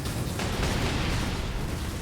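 Heavy autocannon fire in the Warhammer 40,000 Space Marine video game, a dense, loud, continuous booming barrage of rapid blasts filling the whole two seconds with no talk.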